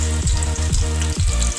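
Chopped onion goes into half a glass of local olive oil in a pan, giving a steady, close sizzling hiss that surges and dips over a low continuous hum, with no voices.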